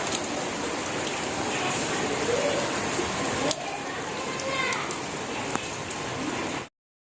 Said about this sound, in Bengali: দেখো বৃষ্টি হচ্ছে বাইরে